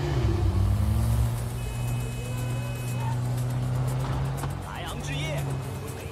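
A car drives in the Neverness to Everness gameplay trailer, a steady engine drone with shifting tone running throughout under constant talking.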